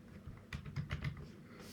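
Quick keystrokes while code is typed on a computer keyboard, a short burst of about half a dozen soft clicks up close, with no talking over them.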